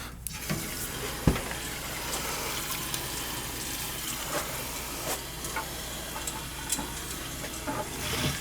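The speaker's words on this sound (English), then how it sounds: "flush the old antifreeze out." Water rushes steadily as old antifreeze is flushed out of a gas boiler's zone valves during a glycol replacement, a continuous hiss with a few sharp clicks and knocks from the pipework.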